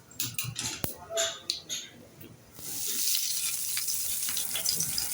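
Mustard seeds dropped into hot oil, a few clicks and clatters giving way after a moment to a steady, close sizzle and crackle that runs to the end.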